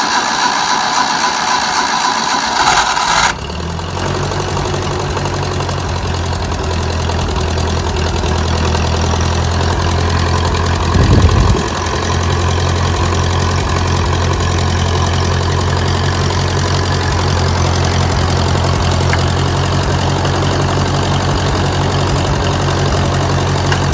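A Ferguson TD20 tractor engine idles steadily and loudly close by, a constant low rumble with a brief change a few seconds in and a short surge near the middle, with no talking.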